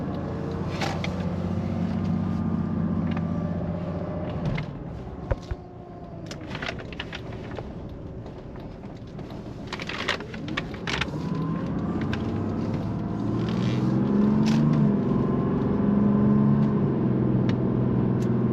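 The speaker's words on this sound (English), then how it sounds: "Sound of a well-tuned diesel." A 1987 Mercedes-Benz 300SDL diesel engine running steadily, heard from inside the car as a low droning hum that swells as it pulls and shifts, with a few clicks and knocks scattered through.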